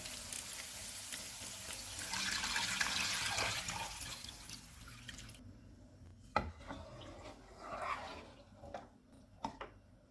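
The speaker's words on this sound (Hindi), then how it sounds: "मटन को मैंने भून लिया है, अब इसमें यखनी डालेंगे।" Yakhni stock poured into fried mutton in a pot, a steady splashing rush for several seconds that gives way to quieter bubbling, clinks and a few knocks nearby.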